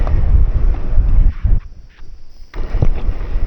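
Strong wind roars over a microphone during a ride in Dingalan, a heavy continuous buffeting rumble that briefly drops away near the middle before surging back.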